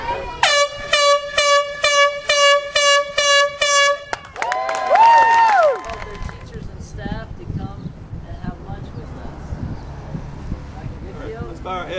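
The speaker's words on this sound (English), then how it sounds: "Air horn." An air horn at a graduation ceremony blasts in a rapid series of short, loud, evenly spaced bursts, then sounds one longer sweeping tone. Crowd noise and wind follow, with some talk underneath.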